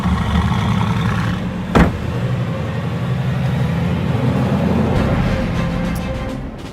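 A 2016 Mercedes-AMG GT S V8 engine rumbling steadily, loud and close, with one brief sharp burst partway through before settling back into a constant throaty drone.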